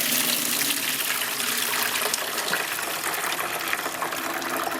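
Water pours and drains steadily through a batch of soaked whole dried corn in a strainer, sprayed with a garden hose; a continuous, close rushing splash with no talking.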